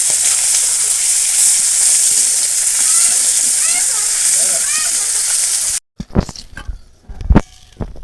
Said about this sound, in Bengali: তোর মাছ ভাজা হয়ে গেল, তেল দাও।